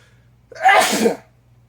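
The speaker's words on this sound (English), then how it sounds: "I have to sneeze." A single loud sneeze close up, a sharp breathy burst lasting about half a second, surrounded by near silence.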